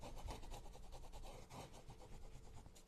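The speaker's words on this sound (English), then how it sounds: "we're going to rub that with our rub-on transfer tool" A rub-on stencil transfer is pressed down with a small transfer tool, giving faint, close scratchy rubbing strokes in a quick back-and-forth rhythm, quiet and without talk.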